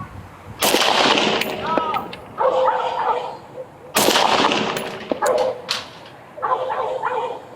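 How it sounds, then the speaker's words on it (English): Police officer firing a department-issued rifle, two loud sharp blasts about three seconds apart, close and startling, with a dog barking and yipping and people shouting between them. "Here is body-worn camera video from the officer who fired his department-issued rifle."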